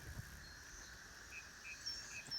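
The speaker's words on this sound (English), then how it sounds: "All those cicadas are still flying around." Cicadas drone in a faint, steady, high-pitched buzz around cedar trees near a hayfield, with a few brief chirps rising over the constant hum at a distance.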